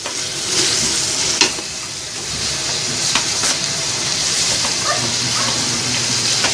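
Mushrooms sizzle in a hot pan for Filipino-style spaghetti sauce, a loud steady frying hiss with occasional scraping stirs and small pops, up close and continuous with no talking.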